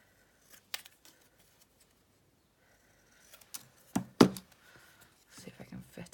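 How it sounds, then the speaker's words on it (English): Scissors cut a sheet of paper down to size, giving a few sharp close snips and rustles separated by quiet pauses, with soft, low talk in between. "I'm going to cut it down because it don't fit"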